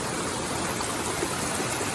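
A small stream of cold water flows over a shallow road crossing, a steady, close, broadband rush and babble with no pauses or voices.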